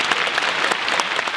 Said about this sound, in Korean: 참석해 주신 부의사장님과 교수님들께 다시 한번 큰 박수를 부탁드립니다